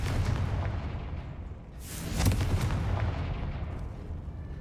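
In Hogwarts Legacy, a Confringo blasting spell goes off as a loud burst about two seconds in, rising out of a steady low rumble and fading slowly, with no voices.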